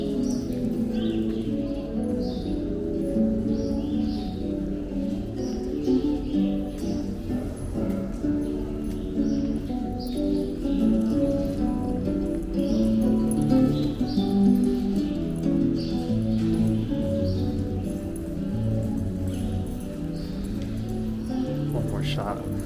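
Birds chirp and tweet intermittently in the background of Central Park near Bethesda Terrace while people talk nearby and hooves clop along; an open, echoing outdoor space.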